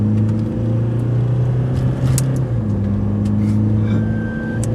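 A car engine strains at full throttle in a drag race between a Toyota Fortuner and a Kia Seltos, a loud sustained roar with shifting tones and faint clicks throughout, no talking.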